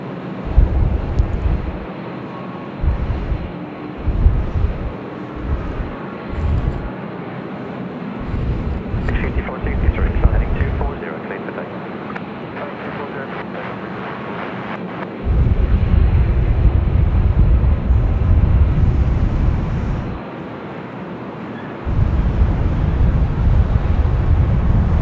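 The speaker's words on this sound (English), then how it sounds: "See how much kickback there is as soon as this Rex gets airborne." Regional Express passenger plane taking off in strong wind at Sydney Airport, a loud rumbling engine roar that builds and holds, broken by gusty wind buffeting on the microphone, with a commentator talking over parts of it.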